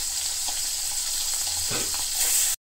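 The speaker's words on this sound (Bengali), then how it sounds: "তো ওই দুটো ভেজে নিলাম, আবার এই দুটো ভেজে নিই।" Fish frying in a pan of hot oil gives a steady, dense sizzle with a brief stirring scrape partway through, close and continuous until it cuts off.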